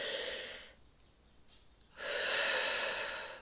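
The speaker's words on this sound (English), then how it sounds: "Just sit quietly and focus on 2, 3, 4, 5 deep breaths." A slow, deep breath, with a long airy inhale, a brief pause, then a full audible exhale, close and quiet.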